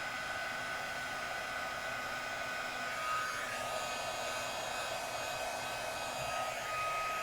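A handheld heat tool blows a steady, even whooshing hum with a faint high whine as it melts embossing powder on a Christmas craft piece, continuous and close with no talking.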